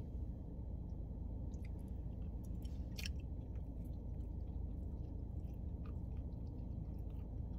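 Soft, close chewing of Chick-fil-A grilled nuggets, a steady wet mastication under a low constant background hum, with a few faint crisp ticks, no talking.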